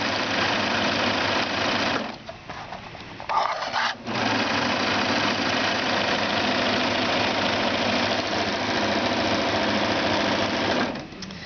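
A serger sews knit quilt pieces together, running in a loud, steady close-up whir that drops out briefly around two to four seconds, then keeps going until near the end.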